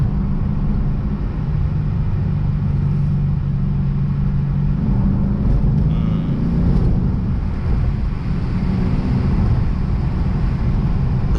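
A Lexus RC F V8 cruising down the road, heard as a steady, loud low rumble with road noise, its pitch and level holding nearly constant throughout.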